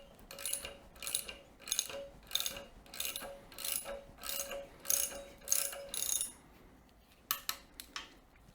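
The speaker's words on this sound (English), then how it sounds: "there's a lock nut and a nut on there, so we'll do them one at a time" A lock nut on the spindle of a Meddings SF12 pillar drill being loosened, giving a run of about ten close, regular ratchet clicks, then a short pause and a few more clicks, with no talk.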